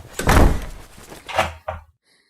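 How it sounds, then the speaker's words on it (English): An indoor door slams with a heavy thump, followed by two quick, sharper clicks of a key turning in the lock, then silence. "I rushed headlong into a room, slammed the door and turned the key in the lock."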